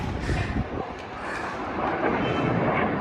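A broad, rumbling roar of a passing aircraft at an air force show grows slightly louder, heard outdoors from a distance on a rooftop terrace, with no voices.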